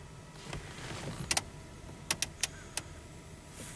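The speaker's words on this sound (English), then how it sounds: "Sounds like a little motor running somewhere." A small motor runs faintly inside a parked 2000 Pontiac Bonneville as a low, steady whir. A few sharp mechanical clicks break through it near the end.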